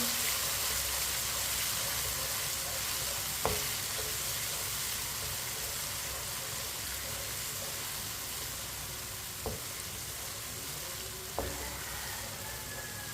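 Finely chopped tomatoes cooking for tinday ki sabzi, giving a dense, steady hiss and sizzle that fills the whole stretch, with a few sharp spoon knocks against the pan standing out.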